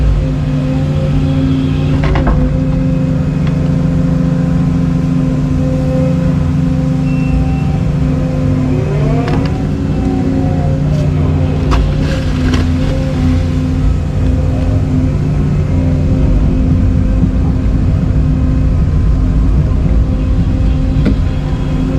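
A machine with a grading bucket drives out along a pond bank in the woods, its diesel engine droning loudly and steadily close by, with occasional clanks and revs over the continuous hum.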